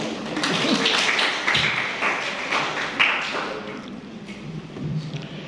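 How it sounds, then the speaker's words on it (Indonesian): Audience applause in a lecture room for a qualitative research methods class, a dense patter of many hands clapping steadily for several seconds, fairly loud and close, then thinning slightly toward the end. "Sekarang ya silakan kalau mau tepuk tangan"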